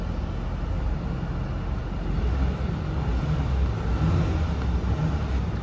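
Exhaust of a 2021 Porsche Macan with a 2.0-litre turbocharged engine gives a muted, steady low rumble at idle, heard from inside the cabin without speech.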